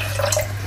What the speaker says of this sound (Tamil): முதல் நான் தண்ணி விடுறேன் சுறா தலை அவிக்கிறதுக்கு